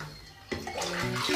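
Water poured from a gayung scoop while bathing, a few splashing dumps of water landing in quick succession, close and fairly loud, with no talking.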